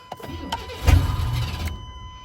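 A 1987 Buick T-Type engine cranks briefly as it tries to start, a short low churning burst near the microphone with a few clicks before and after, then fading to quiet.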